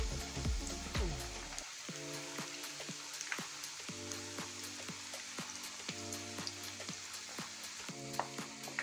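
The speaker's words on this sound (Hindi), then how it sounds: "पकौड़े को हाई फ्लेम पे ही बनाना है" Onion pakoras frying in hot oil over high flame, a close, continuous crackling sizzle with scattered pops, under soft repeating background music.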